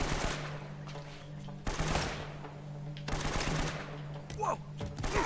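Gunfire and the blast of an explosive barrel in the action game Uncharted: Drake's Fortune, broadband bursts near 1.7 and 3.1 seconds over a steady game drone, with a voice also present.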